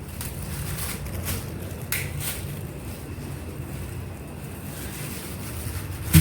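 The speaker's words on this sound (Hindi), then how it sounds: "तो ये मैं धो लेती हूँ।" Plums are washed in water at home, with a steady rushing, splashing wash of water running unbroken throughout and no talking.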